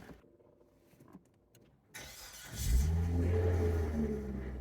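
A 2008 Cadillac XLR-V starts with quiet clicks and a sudden burst of engine noise, then pulls away with a rising, steady growl, heard from inside the car.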